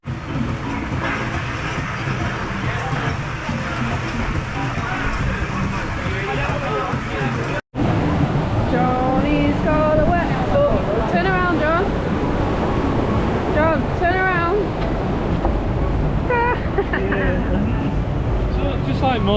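Water churns and splashes around a rapids ride boat at Alton Towers, a loud, continuous rushing roar broken by a brief cut, with riders' voices rising over it in the second half.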